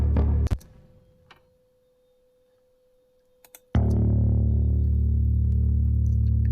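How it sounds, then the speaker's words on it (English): After a short blip and a near-silent gap, a dry, deep synth bass tone comes in loud and sustained, with no echo or tail. "and as you can hear, it's a bass."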